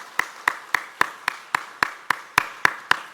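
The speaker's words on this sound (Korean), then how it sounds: "큰 박수로 환영하시겠습니다" A church congregation claps in unison to welcome a newly registered member during a Sunday service, sharp claps landing at a steady, even rhythm about three per second, fairly close and with no talk over them.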